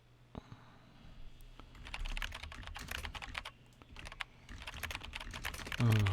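Rapid computer keyboard typing in bursts during a typing game, clicks clustered and uneven, fairly close, with short pauses and a few louder thumps near the end.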